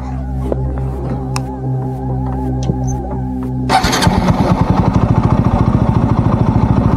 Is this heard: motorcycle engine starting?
yes